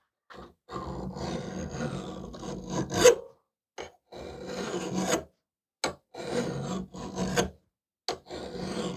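A metal file rasps back and forth across a steel axe blade in steady strokes, close and fairly loud, with brief pauses between bursts of filing and no speech.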